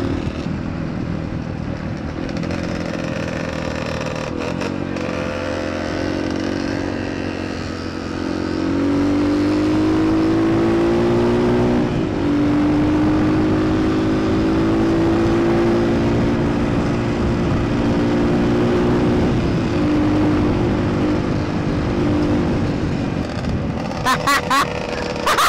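Yamaha RXT135 pit bike with an unrestricted cylinder runs loud and close, its engine rising into sustained high revs, holding, then easing with brief blips near the end.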